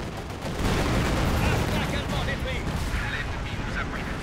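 Infantry gunfire rattles through a Company of Heroes 2 battle in Operation Barbarossa, dense overlapping shots and bursts forming a loud continuous barrage with booming rumble beneath.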